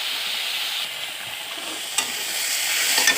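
Mixed leafy greens stir-fry in a hot pan with a continuous close sizzle and hiss, broken by a couple of sharp scraping stirs and growing slightly louder toward the end.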